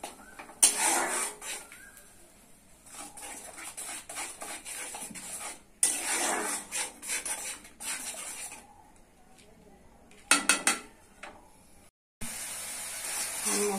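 Spices with mustard are sautéed and stirred in a pan, producing intermittent bursts of sizzling and scraping separated by short quiet gaps.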